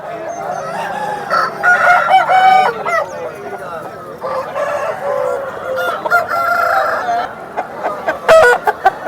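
Roosters and other fowl at a Nallapadu rooster market, including an 11-month-old rooster, crow and cluck repeatedly at close range, with overlapping calls and some honking throughout.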